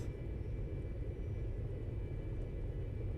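Steady low jet rumble of a Citation S550 in X-Plane 11 with thrust reversers deployed after landing, a constant roaring drone with no breaks and no talk.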